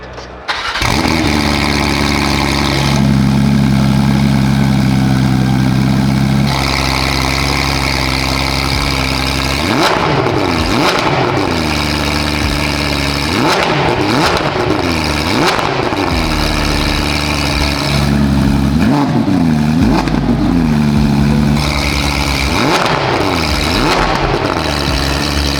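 A Porsche 911 GT3 RS engine starts with a loud bark, settles into a high idle, then is blipped repeatedly in sharp revs that rise and fall, all close and loud with no talking.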